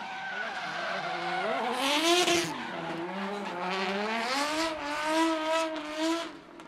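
Pro drivers in drift cars, including a V8 KE70 and an S13 with an RB25/30, slide around a track with long wavering tire squeals and engine roar, loud and continuous.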